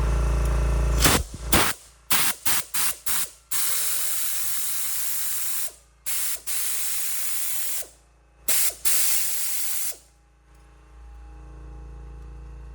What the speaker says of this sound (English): It's a air compress wrench. It's a socket wrench.